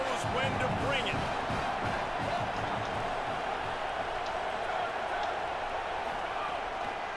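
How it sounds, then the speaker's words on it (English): A stadium crowd in the college football video game CFB 27 keeps up a steady, loud roar and cheer throughout an Iowa vs Washington matchup, with a commentator talking over it. "This crowd knows when to bring it."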